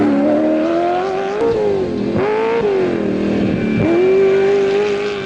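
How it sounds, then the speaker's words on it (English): A tuned Toyota Hilux rally car, number T12, roars past at full speed through a waterhole, its loud engine note rising and falling with gear changes and throttle in one continuous near pass. "Yeah, the Hilux coming through the waterhole again. Beautiful sounding motor."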